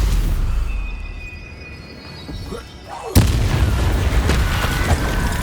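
A heavy spell impact in Hogwarts Legacy gameplay lands as one loud, sudden boom about midway, followed by a rumbling, crackling tail over the continuing background noise.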